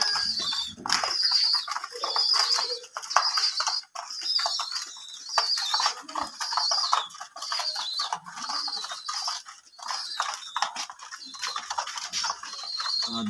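Pigeons kept in a loft in Rajshahi in winter: frequent close fluttering wingbeats, scratchy shuffling and faint bird calls coming in uneven bursts, with no talking over them.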